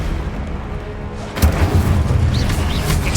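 An Incendio fire spell cast in a Hogwarts video game, a sudden booming whoosh that breaks in partway through and keeps roaring with crackling bursts.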